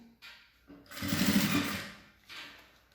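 A sewing machine stitches bias binding onto fabric with short bursts of whirring motor and rapid needle chatter, one longer run in the middle and a quieter spurt at the end.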